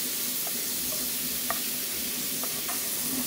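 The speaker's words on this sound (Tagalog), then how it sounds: "Halu-haluin natin hanggang sa mamutla yan." Ground meat frying in a pan for adobong gulay, with a constant close hiss and sizzle. A utensil scrapes through it with occasional light clicks.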